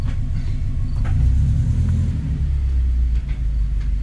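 A Subaru STI out on the road at night, fitted with a short throw shifter, gives a steady low engine and road rumble from inside the cabin, loud and continuous with no talking.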